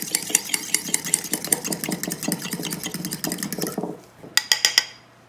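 Two eggs are beaten in a bowl with a utensil for homemade almond flour crackers. The rapid, rhythmic clicking and tapping against the bowl runs steadily, then pauses briefly before a short final burst of sharper clinks.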